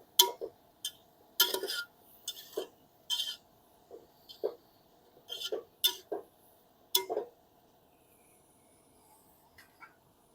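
A spoon stirs and sautés turmeric in a pan over a wood-fired stove, with sparse, irregular metallic clinks and taps against the pan separated by quiet gaps, close and fairly soft.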